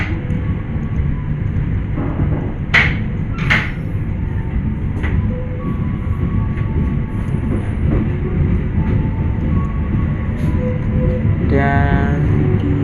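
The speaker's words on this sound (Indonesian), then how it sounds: "di jalur 4 terdapat kereta api lokal Walahan dari stasiun Cikarang" A local passenger train in Indonesia rumbles past steadily, with a low rolling drone, occasional metallic clanks and a brief squeal near the end.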